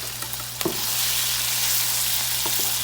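Ground beef frying in oil in a pan on a stovetop, a steady close sizzle that swells after a brief quieter start and keeps crackling evenly throughout, with a few faint clicks and no talking.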